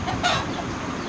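An Aseel rooster of about four kilograms gives a short burst of close, clear clucking, with no voices over it.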